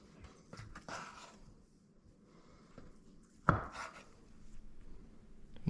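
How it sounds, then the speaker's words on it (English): Fresh mozzarella cut into slices with a knife, a few faint, soft cutting strokes and board taps spread across a quiet stretch, one sharper knock near the end. "We have our fresh mozzarella. I'm gonna cut it into slices."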